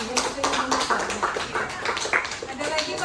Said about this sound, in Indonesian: terima kasih untuk Ibu Dia, tepuk tangan dulu